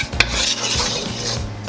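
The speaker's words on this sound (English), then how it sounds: "Give that a stir." Quinoa simmering in milk with nutmeg and cinnamon being stirred in a pot: a close scraping swirl with a light clink of a utensil against the pot, under a soft bubbling sizzle.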